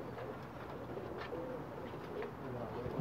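A pair of Ferozpuri breed pigeons cooing softly in a loft, low throaty coos repeating under a steady background hiss, fairly faint and close.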